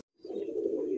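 A single low, sustained pigeon coo from Madrasi high-flying pigeons in a Kolkata loft, close and clear after a brief silence.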